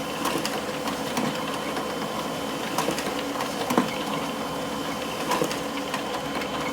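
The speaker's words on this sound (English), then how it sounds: "my printer is printing off the manuscript" A home printer runs steadily in the background while printing out a full book manuscript, with a continuous mechanical whir and occasional soft clicks and thumps from the paper feed. The sound is moderately faint and constant.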